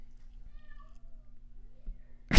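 A pet cat gives a short, quiet meow close by over low background hum, followed moments later by a sudden loud knock at the very end.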